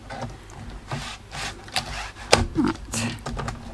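A paper trimmer blade slices across craft card in a few scraping, rasping passes, close and moderately loud, with quiet rustling of the card between strokes.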